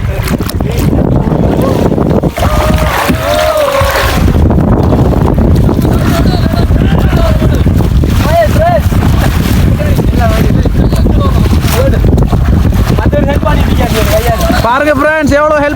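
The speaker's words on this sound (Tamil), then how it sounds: "காத்து அடிக்குது இங்க பாருங்க" Strong wind buffets the microphone at a lake during a boat outing, a loud constant roar with splashing water and voices talking throughout.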